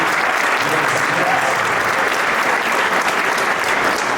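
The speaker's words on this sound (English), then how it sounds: "So can we give her a round of applause as well, too, please?" An audience gives Miss Snyder a round of applause, a dense, steady wash of many hands clapping at once that stays loud and even from start to finish, with no voice rising above it.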